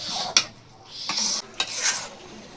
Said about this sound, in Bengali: দিয়ে এবার মশলার সাথে সুন্দর করে কষাই দিব